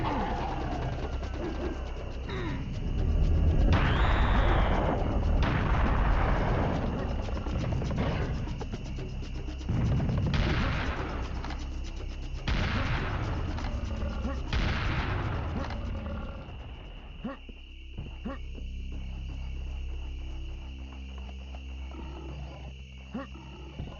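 Heavy cannon fire in Serious Sam: The First Encounter at the Karnak level: several booming shots spaced a few seconds apart, each with a long echoing roar, over a low game soundscape that turns to droning music at the end.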